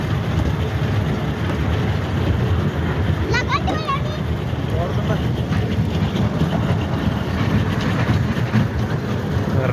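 A train running in Nepal, steady broadband rumble with faint rail clatter throughout, heard close from on board or beside the track, with a brief squeal near the middle and no clear voices.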